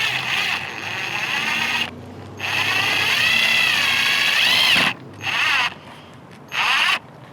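A power drill drives a self-tapping screw through a carbon fiber front lip on a 2015-2021 Subaru WRX or STI, producing a loud, sustained whine that rises in pitch, then short bursts, close up.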